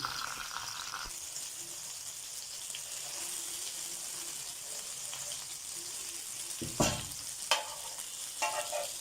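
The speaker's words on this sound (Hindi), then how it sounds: "इसमें घुमाती जा रही हूँ और फ्राई करती जा रही हूँ" Chicken leg pieces sizzle steadily in a pan while being stirred, with a soft continuous frying hiss broken by a few sharp scraping clinks of the utensil toward the end; faint background noise underneath.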